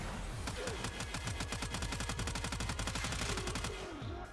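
The Tenora gun in a video game fires a rapid, evenly spaced burst of loud shots for about three and a half seconds, then falls quiet.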